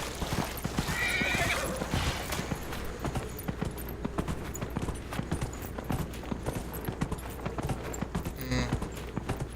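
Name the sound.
horse neighing and hooves, video game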